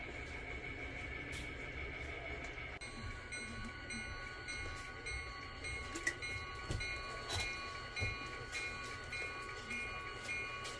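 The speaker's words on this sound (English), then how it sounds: "now we're going to pull forward and spot those last two boxcars at Deerfield shipping" A train, likely a model railroad, pulls forward to spot boxcars at a shipping siding, producing a steady mechanical hum with faint clicks and a brief sharp knock, quiet and continuous with no talking.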